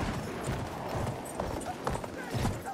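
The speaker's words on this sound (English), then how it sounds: "Enemy horse." A horse gallops through the desert in Battlefield 1, its hoofbeats a steady, loud clip-clop over a busy game din with scattered noise and bursts of gunfire.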